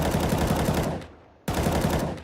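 Counter-Strike: Global Offensive gunfire: a loud, rapid automatic spray of shots, a short pause, then another sustained full-auto burst, close and dense.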